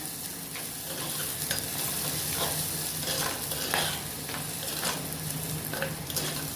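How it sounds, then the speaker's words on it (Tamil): Tomato, onion and green chili sauté in a pan for a Tirunelveli-style lentil ball kuzhambu, making a steady close sizzle broken by repeated scraping stirs, with no talk. "தக்காளி வெங்காயம் பச்சை மிளகா எல்லாம் நல்லா வதங்குது"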